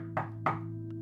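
Two firm knocks on a wooden door, spaced about a third of a second apart, over a steady low background hum, followed by a faint third tap.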